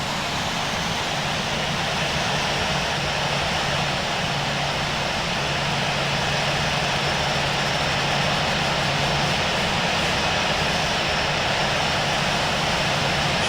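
Jet airliner engines idle and roll along a taxiway in the Infinite Flight simulator, a steady, loud, continuous roar and hiss with a faint low hum that holds level throughout, with no voices.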